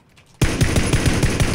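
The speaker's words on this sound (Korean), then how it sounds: "총소리는 바로 앞에" Automatic gunfire in PUBG: Battlegrounds, a loud burst of rapid regular shots that starts abruptly after a quiet moment and continues to the end.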